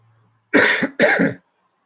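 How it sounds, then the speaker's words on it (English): A wet cough into a hand, two harsh close bursts in quick succession, loud and alone with quiet before and between. "Coughed right into my hand."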